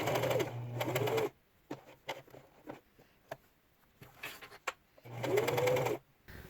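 Sewing machine running in two bursts of stitching on a silver mini dress, each about a second long, with quiet handling and light taps between them.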